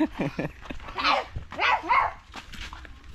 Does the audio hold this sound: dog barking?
yes